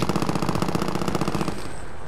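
A rapid, even burst of automatic gunfire in a shooter video game rattles loud and close for about a second and a half, then cuts off, leaving a fading echo.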